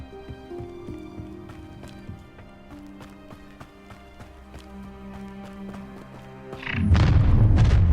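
The Confringo spell lands in Hogwarts Legacy with a sudden heavy blast near the end. Before it, orchestral game music and some faint clattering effects play, and then the explosion roars loud and low and keeps rumbling.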